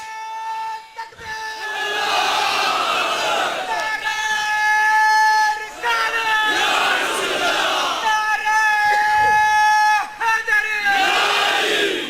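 A large crowd shouts a religious slogan in unison at a Sufi gathering, loud, repeated call-and-response bursts with brief pauses between them.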